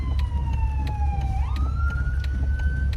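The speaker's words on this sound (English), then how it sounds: "I hear sirens." An emergency vehicle siren wails with a sliding, rising pitch sweep over steady traffic rumble, loud and fairly close, with no voices over it.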